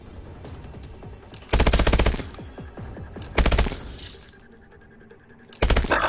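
Automatic gunfire in Call of Duty Advanced Warfare rips out in three loud, rapid bursts, each about half a second long, separated by quieter game noise and clinking.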